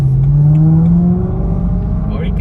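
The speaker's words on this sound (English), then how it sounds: "engine sounds so race car like." A BMW E90 M3 with a custom exhaust accelerates, its engine note rising loudly and steadily from inside the car before easing off, with voices faintly underneath.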